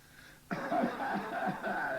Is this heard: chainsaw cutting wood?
no